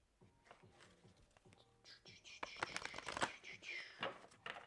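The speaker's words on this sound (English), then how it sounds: "Last shuffle." Tarot cards are shuffled by hand in a final shuffle, a flurry of quick close riffling and papery slaps, faint, with soft whispered speech beneath.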